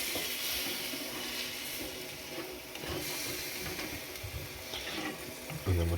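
Steak and onion pieces cooking in a hot pan in a shed, a steady broadband sizzle and hiss running throughout, close and fairly loud, no talking.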